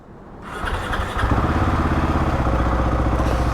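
A Husqvarna 701 motorcycle engine that had been refusing to start cranks and catches, then settles into a loud, steady, close idle with a rapid even pulse, with no one speaking.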